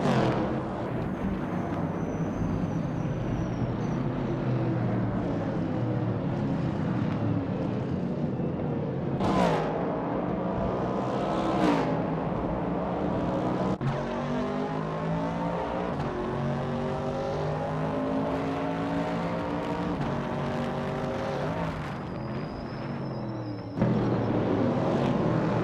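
Race cars, among them a 1968 Chevrolet Camaro, roar around a track in a continuous loud engine drone, with rising and falling pitch as cars pass and a couple of sharper whooshing passes midway.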